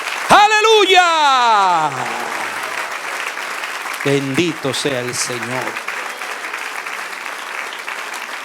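Congregation applause at a church service, steady and broad through most of the clip, with a voice speaking loudly over it near the start and again midway.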